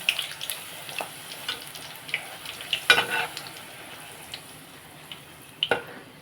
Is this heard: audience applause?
no